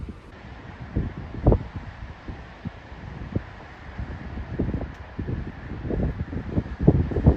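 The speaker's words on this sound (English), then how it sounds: "it's a mad windy day" Blustery wind buffets the microphone in uneven gusts, with low rumbling thumps rising and falling throughout and no one speaking.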